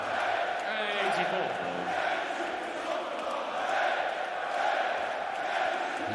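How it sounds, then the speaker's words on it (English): A crowd at a World Cup of Darts match between Italy and Sweden cheers and chants in a steady, loud roar that swells and dips, with a commentator talking over it. "The crowd only just getting warmed up."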